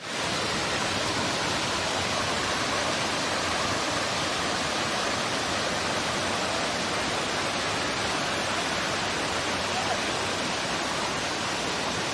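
The Pha Ngaen sculpted waterfall at Ratchathani Asoke in Warin Chamrap, Ubon, pours steadily, a loud, unbroken broadband rush of falling water, close and constant, with no voices.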